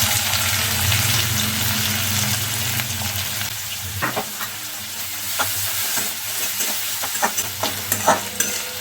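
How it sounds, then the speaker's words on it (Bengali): Onions with black cumin seeds sizzle in oil over a medium flame, a steady close frying hiss throughout, with scattered sharp pops and spatters in the second half. "পেঁয়াজটাকে আমরা একটু মিডিয়াম ফ্লেমে রেখে গোল্ডেন ফ্রাই করে নেব"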